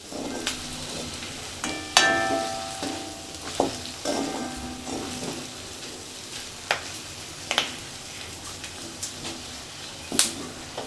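Mangalore-style chicken ghee roast with curry leaves sizzles and fries in a pan, with a spoon stirring and scraping in scattered clanks and knocks over the steady hiss.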